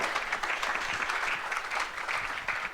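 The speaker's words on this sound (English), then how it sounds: "one more round of applause for Josie" Conference audience applauding a speaker, a steady wash of many hands clapping that holds at an even level for a few seconds, with no talking over it.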